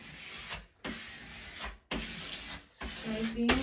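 A credit card scrapes a cowboy vinyl decal onto a bedroom or nursery wall. The dry rubbing scrapes come in a few close strokes, separated by brief silent gaps.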